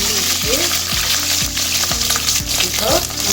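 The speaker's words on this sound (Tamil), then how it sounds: "கடுகு சுண்டல் பொரிஞ்சிருக்கு கருவேப்பிலை சேர்த்துக்குவோம் அடுத்து பச்சை மிளகா சேர்த்துருவோம்" Mustard seeds, curry leaves and green chillies frying in hot oil for a canned fish curry, a loud continuous sizzle and crackle with regular utensil scrapes roughly every half second, close up and without talk.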